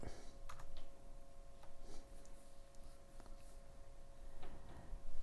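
Light, intermittent typing on a computer keyboard while entering a setup command in the Manjaro Linux installer, soft scattered key clicks over a steady background hum.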